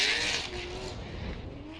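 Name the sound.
turbocharged V8 drift car of Darren McNamara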